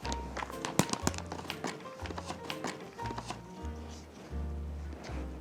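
Knife slicing frozen puff pastry sheet into short lengths on a board, a series of quick tapping cuts up close over a steady low hum from a nearby appliance.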